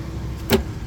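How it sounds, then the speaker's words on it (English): A single quick clunk from the power door locks of a 1987 Cadillac Brougham, heard once and close up against a quiet cabin. "Power door locks."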